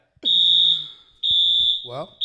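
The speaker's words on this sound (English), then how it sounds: "that's their fire alarm" A building fire alarm blares in loud, steady electronic tones, sounding in two long bursts with a brief gap between them as a person speaks underneath.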